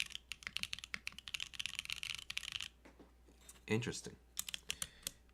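A keyboard fitted with Gateron switches is typed on nearby in quick bursts of crisp, poppy keystrokes with short pauses between them. A person briefly speaks partway through.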